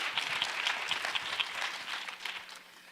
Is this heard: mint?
no